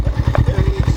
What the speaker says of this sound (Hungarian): Jó hangja van, szereted a motorokat?